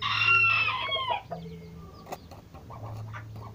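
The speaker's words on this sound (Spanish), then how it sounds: "Oh, nuevo canto. ¿Quién será este gallo?" A rooster crows loudly up close, a long strained call, followed by quieter clucks and scattered farmyard noises.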